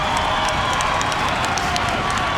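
A UFC arena crowd at the Cox Pavilion roars and cheers continuously in a dense, loud wall of noise that fills the space.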